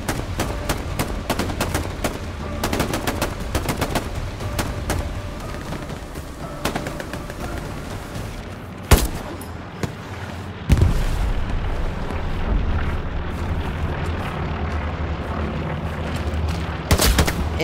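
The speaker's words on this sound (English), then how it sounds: "Sounds like there's still infantry fighting going on up here at hospice." Video game infantry combat with dense, continuous gunfire bursts and heavy explosion booms, loud and close at times, carrying on for the whole span without pause.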